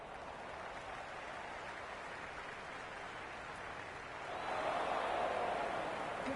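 Cricket stadium crowd in the Cricket 26 video game during an India vs Pakistan match at Galle, Sri Lanka: a broad, distant roar of spectators that swells louder near the end.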